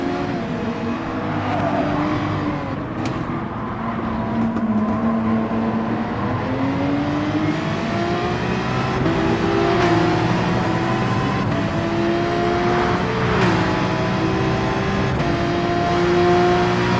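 Race car engine in Gran Turismo Sport at Bathurst's Mount Panorama, a steady loud whine rising and falling through gear changes and corners, running continuously without talk.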